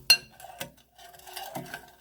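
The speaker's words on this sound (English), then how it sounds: "2 minutes has been up, so I'm going to stir it." A spoon stirs hot microwave jam in a bowl, giving a sharp clink at the start, another knock midway and soft scraping and tapping after, all faint and close with no talk.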